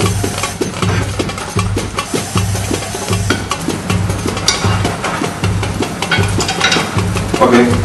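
Potatoes for chicken and chips fry in a pan while being stirred and flipped, a steady loud sizzle broken by repeated scraping and clattering strokes close by, with no talking.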